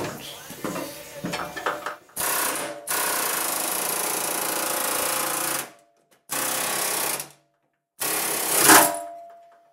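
A chisel is hammered against a car door handle in bursts of rapid, loud metallic rattling and pounding, separated by short silent gaps, with some clatter at the start.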